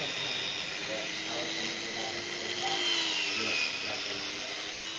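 A handheld angle grinder runs steadily at high speed while a blade is being mirror-polished, giving a continuous whining, gritty drone that holds at an even level throughout.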